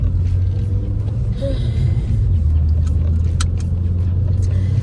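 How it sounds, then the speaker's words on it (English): Steady low rumble of road traffic with cars passing continuously nearby, a dense engine and tyre drone filling the whole stretch, with no voices over it. "there's a bunch of traffic freaking today"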